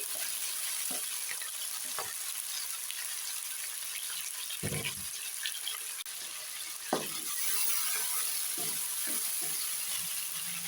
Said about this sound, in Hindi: अब हम इसमें डालेंगे 250 ग्राम चिकन बोनलेस, जिसे मैंने बारीक क्यूब में कट कर लिया है। अच्छी तरह से इसको भून लेंगे।